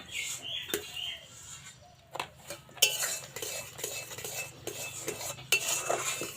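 A spoon scraping and clinking around a pan as a mango sondesh mixture with semolina and milk powder is stirred, with irregular metallic taps and scrapes at close range and no talk.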